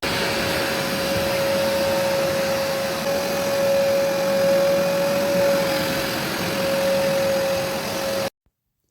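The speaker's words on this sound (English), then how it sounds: "this Platinum SmartWash carpet cleaner, if you push it forward, it washes, and if you push it back, it dries" Vax Platinum SmartWash carpet cleaner washing a rug, its motor whining loudly and steadily with a thin high tone, the suction rising and falling slightly as it moves, then cutting off abruptly at the end.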